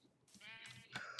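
Sheep on the plains in the video game Minecraft give a couple of short wavering bleats, close and faint, with no talking over them.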